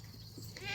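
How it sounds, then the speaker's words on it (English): A goat out by a farm fence gives a faint, short bleat near the end. The call sounds distant and quiet against low background noise. "Still one more goat out there that my sister's releasing from the fence."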